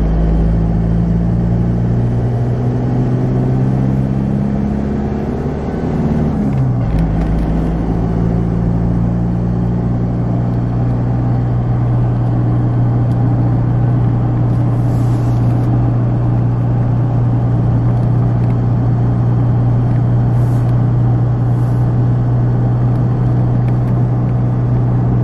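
Interior drone of a Ford Ranger cruising at 50 to 60 km/h on a suburban road, a loud steady engine hum and road rumble with a brief pitch shift early on as it settles into a constant tone.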